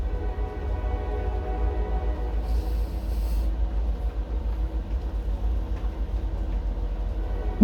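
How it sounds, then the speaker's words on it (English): A train goes by with its horn sounding, a low continuous rumble and rolling rattle underneath, a brief high whistle partway through, moderately close and without speech. "Trains."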